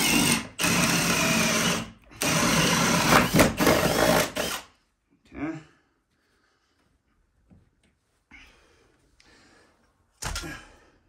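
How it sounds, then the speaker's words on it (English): A power drill whirs loudly in two long bursts with a short pause between, drilling a cable hole during a Sonos installation, then a few quieter clunks and brief drill blips follow. "I'm gonna drill a separate hole to make it easier."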